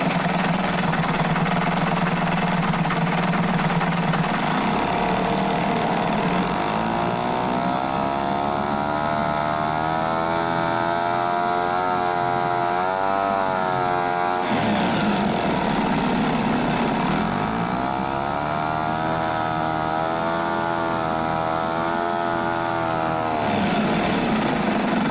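A small Sea-Pro T2.6S outboard motor runs loudly and continuously in a test barrel, its pitch rising and falling with the throttle, with a brief dip before it revs back up.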